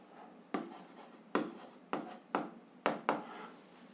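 Pen strokes scratching across paper while algebra is written out, in about six separate bursts of scribbling with short pauses between them, close and fairly quiet, with no one talking.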